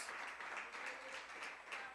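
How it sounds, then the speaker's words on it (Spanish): A church congregation applauding, a brief, faint, distant wash of clapping that holds evenly for a couple of seconds. "Denle una ofrenda de palmas al Señor."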